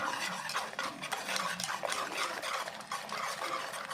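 A spoon whisks an egg mixture in a bowl, a fast, steady, close scraping and clicking rhythm that runs without pause for a few seconds.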